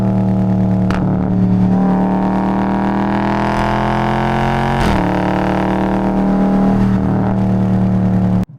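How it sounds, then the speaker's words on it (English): The 392 Hemi V8 in a 2021 Dodge Challenger Scat Pack revs loud and close through its exhaust. Several throttle blips rise and fall over a deep, steady burble, then it cuts off sharply at the end. "The 392 Hemi already sounds fantastic, but the way this exhaust setup is, it just amplifies it even more."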